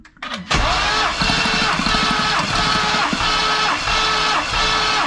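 A twin-turbo 2019 Mustang GT V8 cranks during a compression test, with a brief starter whir followed by loud, steady, rhythmic cranking pulses that continue close-up and alone for several seconds.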